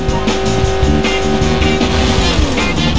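A car races along in The Simpsons Hit and Run video game, its engine droning steadily and loudly under dense game music and effects, with faint tire squeals mixed in and no talking.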